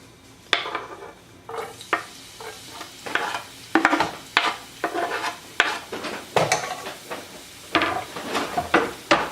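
Garlic sizzling in heated oil in a pan, stirred with a utensil, giving a run of close, crisp scraping and clattering bursts over a soft continuous frying hiss.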